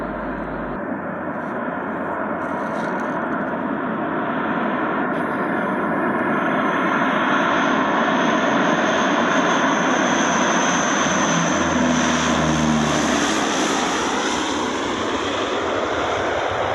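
Antonov An-12 turboprop aircraft landing at an airport, a steady loud propeller and engine roar sustained throughout with a subtle shifting tone as it passes, no talk.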